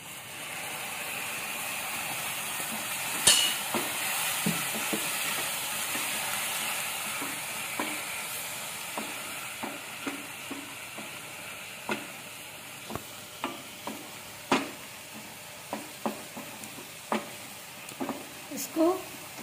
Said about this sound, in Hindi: इसको थोड़ी देर भूनेंगे